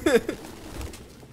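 Pigeons in the video game Detroit: Become Human, a brief burst of cooing and fluttering right at the start that quickly fades into quiet, close and fairly loud.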